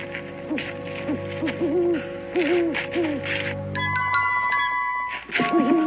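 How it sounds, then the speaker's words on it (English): A hoot owl calls in a repeated series of wavering hoots heard at night in a frontier wood. A steady tonal drone runs beneath, and a brief chiming tone sounds near the end. "Sure, that ain't nothing but a hoot owl."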